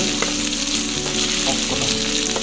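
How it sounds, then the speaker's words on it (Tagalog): Chopped tomatoes sizzle and fry in a hot pan as the base for sautéed ladyfingers (okra), a close, steady crackling hiss with no talking. "Yan, lutuin lang natin itong kamatis."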